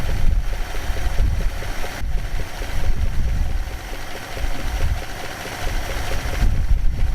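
The engine of a 1959 Plymouth, just back from carburetor work, idles with a steady low rumble, loud and close, under a rough, buffeting wash of wind or ambient noise.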